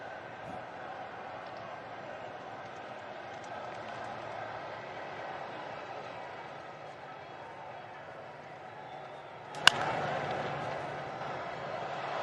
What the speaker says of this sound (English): they hit the warm first at-bat reception button on the crowd noise machine for Terrence Gore